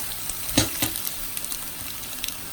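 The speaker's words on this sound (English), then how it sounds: "Cook stirring frequently until the liquid is cooked off." Chicken and vegetables sauté in broth in a pan, a steady close sizzle with a few sharp scrapes and clacks as the food is stirred.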